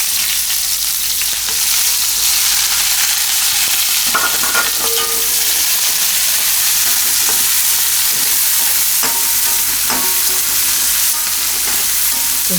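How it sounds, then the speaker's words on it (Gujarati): Chopped onion with cumin seeds and asafoetida frying in hot oil, a steady loud sizzle with occasional stirring clinks throughout, no talking. "તો તેલ આપણું ગરમ થઈ ગયું છે. એમાં થોડુંક જીરું નાખશું અને થોડીક હિંગ નાખશું અને ડુંગળી નાખી દઈશું."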